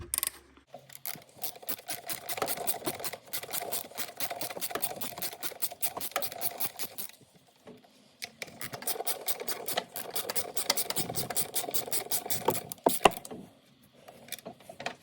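Ratchet clicking in quick bursts while 8mm throttle body bolts come off a Ford 4.0 SOHC engine, two runs of rapid close clicks separated by a short pause.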